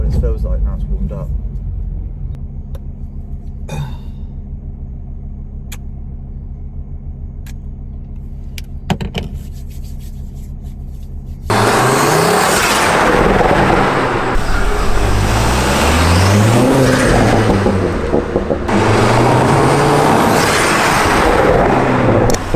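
Turbocharged car with the crossover baffle deleted, engine idling with a low steady rumble, then breaking into loud repeated revving with rising and falling pitch sweeps and flutter, close up.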